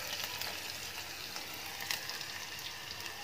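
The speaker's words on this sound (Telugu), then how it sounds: "ఉల్లిపాయలు మగ్గిపోయాయి నూనెలో." Onions frying in oil for gongura chicken, a steady soft sizzle throughout with no talk, close but faint.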